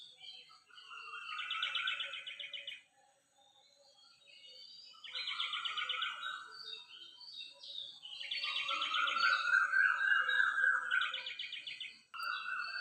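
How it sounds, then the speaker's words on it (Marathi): Several birds chirp and trill at dawn in the Konkan countryside, repeated bursts of bright twittering calls with short pauses between them, fairly close and clear against a quiet background with no voices. "पहाटे पहाटे हा पक्ष्यांचा किलबिलाट"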